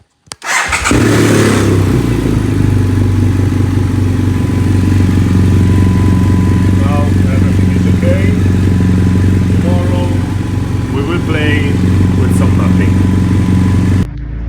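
A Rotax-engined GS800 motorcycle, probably in gear, runs steadily and loudly close by, a constant droning engine note held for the whole stretch, with faint voice-like sounds above it.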